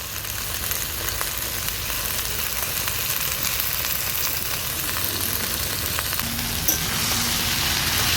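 Steady, loud sizzling of vegetables and water spinach (kalmi greens) frying in a pan, with soft scraping as they are stirred, continuing without a break and with no voices.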